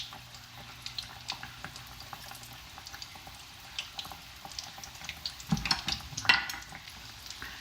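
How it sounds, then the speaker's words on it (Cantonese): Chinese round salty dough, ham chim peng, deep-fries in oil with a soft, steady bubbling sizzle, growing busier toward the end as utensils clatter and the pieces are shifted. "咁就每邊炸佢幾分鐘就得㗎啦"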